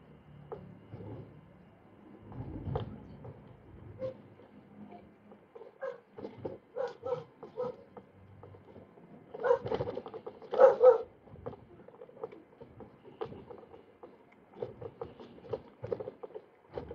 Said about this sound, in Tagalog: Sino ba may-ari ng aso na yan?